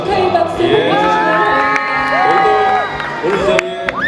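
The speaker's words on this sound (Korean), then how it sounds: "다시 한번 축하의 박수!" An awards-ceremony crowd, many of them young fans, cheers and whoops loudly with scattered clapping, high excited voices rising and falling in a dense, close wall of sound.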